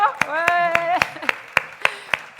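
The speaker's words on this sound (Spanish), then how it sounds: "Un aplauso." A few clearly separated hand claps ring out in a steady rhythm at a talk on ageing, greeting two doctor volunteers, while a voice briefly speaks or sings a sustained tone over the first second.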